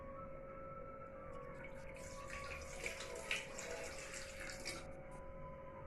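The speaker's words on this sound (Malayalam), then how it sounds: "അപ്പോഴത്തേക്കും ഞാൻ ആദ്യമേ 1 കപ്പ് വെള്ളം ഒഴിക്കുകയാണ്" One cup of water poured into a pan while making blue tea, a soft continuous splashing trickle over a few seconds, quiet and close with a faint background hum.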